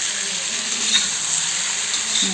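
Vam river fish frying in oil on an iron tawa, a steady, even sizzle that runs without a break at close range, with no talking.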